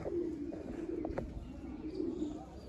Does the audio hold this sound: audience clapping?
no